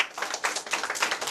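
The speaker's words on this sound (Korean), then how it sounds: "우리 학생분들 박수 한번 쳐주세요" Students in an audience clap together for a short burst, a dense, steady patter of handclaps at moderate loudness with no talking over it.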